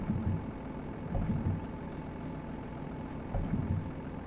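In the Derail Valley video game, a utility rail vehicle's engine idles with a low, rumbling chug and periodic heavier surges, at moderate level with no voices over it.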